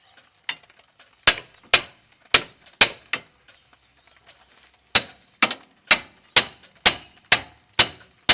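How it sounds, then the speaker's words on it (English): Sharp metallic hammer blows ring out on a Pontiac G6 suspension part during strut and ball joint replacement, a few scattered strikes followed by a steady run of evenly spaced hits. "That's where a hammer's going to come into play."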